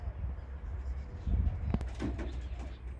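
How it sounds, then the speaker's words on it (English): Pigeons in a small backyard edible garden coo and scuffle overhead in a brief bird fight, a low soft cooing with a sharp flutter in the middle, fairly close and with no talk. "Seems to be a bit of a bird fight going on up there."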